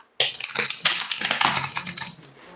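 Rapid typing on a computer keyboard starts abruptly and continues as a dense, uneven clatter of close key clicks for over two seconds, with no speech over it.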